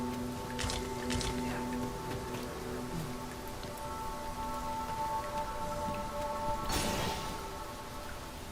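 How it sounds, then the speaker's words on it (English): Rain pattering steadily in Dragon's Dogma 2, a constant wet hiss under soft music tones, with a few louder splashy hits and a sharp crash near the end. "The rain ought to abate soon enough."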